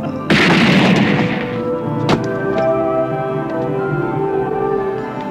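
A loud gunshot blast rings out near the start of a tense scene in a Filipino action film, followed by a second sharp shot about two seconds later, with a reverberant tail and background score between them.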